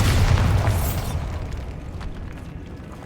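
Bombarda spell blast in Hogwarts Legacy: a single loud, deep boom at the start that rolls off into a fading rumbling tail over a few seconds, with no talking.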